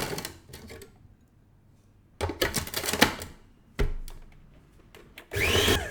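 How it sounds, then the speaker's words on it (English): A food processor pulses whole butter cubes with sugar in several short bursts, loud and close, each a rough whirring clatter followed by a pause. "add the whole butter cubes and pulse until the sugar coats the butter"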